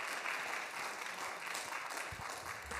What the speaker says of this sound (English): if you could please hold your applause